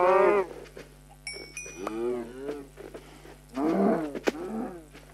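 A Minecraft cow moos several times, drawn-out lowing calls at moderate volume, with a brief chime and other game sounds in between.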